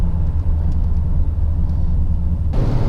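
A 1974 Corvette with an L82 V8 runs close by in a steady, loud low rumble that holds even throughout, with a slight shift in tone near the end.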